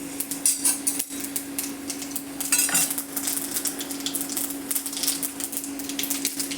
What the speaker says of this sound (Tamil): கடுகு பருப்பு பொரியுது பாருங்கள்.